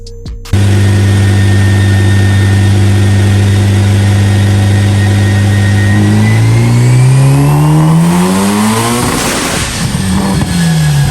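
Mitsubishi Evo X with a Garrett 3576R turbo and flex fuel setup, idling steadily at a loud, close range before the engine revs up and then drops back, with no talking.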